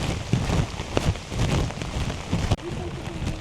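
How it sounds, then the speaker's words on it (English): Waterfall near Neuschwanstein Castle in Germany during a rainstorm, a steady rushing spray of water with scattered close knocks and taps on top. "So yeah, that's just the waterfall"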